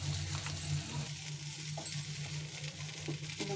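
Sliced okra (bhindi) hits hot oil in a pan and sizzles steadily, a soft continuous crackle with faint stirring scrapes and no talking.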